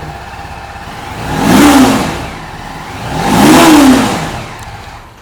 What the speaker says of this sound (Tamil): வண்டி இப்போ நான் ஸ்டார்ட் பண்ணி காட்டுறேன் பாருங்கள்